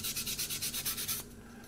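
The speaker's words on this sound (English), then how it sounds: "finished it off with the very fine 1000 grit sanding sponge" Rapid rhythmic rubbing strokes of a 1000-grit Tamiya sanding sponge on a plastic B-25 Mitchell model kit, about ten quick passes, close and fairly soft, then they stop.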